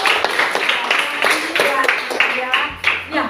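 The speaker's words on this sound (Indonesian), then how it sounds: "Tepuk tangan sekali lagi" Clapping from a class during a Christian religious education lesson, a group of sharp hand claps in quick succession with voices talking over them.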